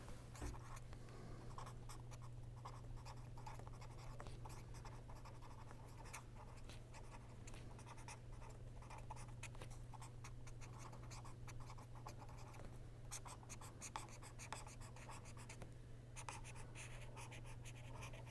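Faint, steady scratching of handwriting during a lecture, a continuous soft scribble over a low constant hum with no talking.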